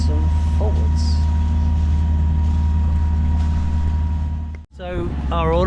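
Sailboat motoring at sea under engine power in the Bahamas, a loud, steady low engine drone throughout, with voices talking over it near the end after a brief dropout.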